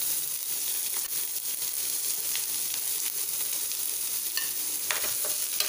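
Sliced onions, green chillies and curry leaves sizzle in hot oil with a dense, even, close hiss that holds for the whole stretch.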